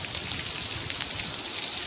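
A steady wash of rain falls, a dense even patter with no voices, moderately loud throughout.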